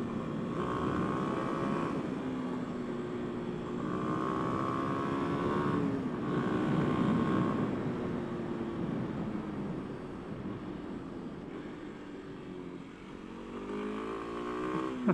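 A 2024 Kawasaki KLX 300SM supermoto's 292cc single-cylinder engine drones steadily while riding, its pitch rising and falling through gear changes, with wind noise throughout and no talk.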